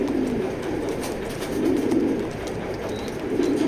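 A male racing pigeon in a loft coos in a continuous low, throaty murmur that runs steadily throughout, with no speech.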